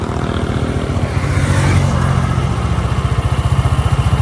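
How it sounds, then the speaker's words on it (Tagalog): Maxxie 160 motorcycle engine idling after a ride over potholed, rough uphill road, a loud close steady putter with even rapid pulses, briefly swelling then settling back to a regular idle beat. "pakinggan nyo yung makina niya after nung ride natin na lubak at rektahan."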